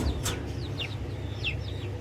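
Chickens clucking in a backyard coop area, several short clucks and chirpy calls scattered over a steady low background hum.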